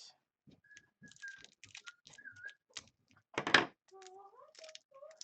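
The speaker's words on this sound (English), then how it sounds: "I'm going to cut this one with the scissors because it's really tight." Scissors cutting open a tightly sealed cardboard box of 2013-14 Contenders hockey trading cards: close, sparse snips, scrapes and squeaks, with one louder crunching rip of cardboard partway through.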